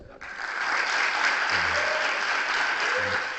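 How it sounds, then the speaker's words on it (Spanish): A crowd breaks into sustained applause, dense and steady clapping that swells quickly and holds, with a few faint voices underneath. "Brindémosle otro aplauso de bienvenida al profesor."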